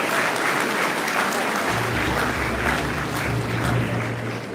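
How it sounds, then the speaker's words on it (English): Audience applause at a university convocation ceremony: a sustained wash of many hands clapping throughout, with a low steady hum underneath. "it's okay if we give him another round of applause, please"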